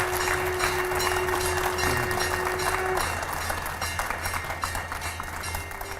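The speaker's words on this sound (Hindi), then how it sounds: "तालियां रुकनी नहीं चाहिए, जोरदार तालियां" Studio audience clapping loudly for a guest swami and five editors on a television show, a sustained dense roar of applause that tapers slightly toward the end, with a steady tone running underneath.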